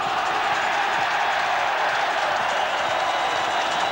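Large rugby league stadium crowd at a 1993 New Zealand versus Australia test, roaring loudly in reaction to a high tackle, a dense sustained wash of shouting and jeering with no pauses.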